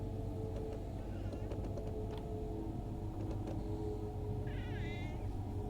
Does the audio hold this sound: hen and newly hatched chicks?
no